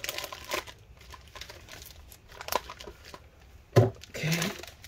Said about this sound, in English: let me put the adhesive tape stuff away